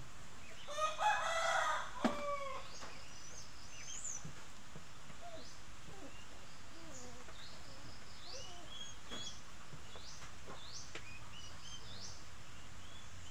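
A rooster crows loudly near the start, then scattered chickens cluck and chatter softly against a quiet outdoor background.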